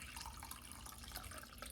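Homemade Haitian ginger tea with sugar is poured into a teacup, giving a steady, close liquid trickle and splash that runs unbroken and alone.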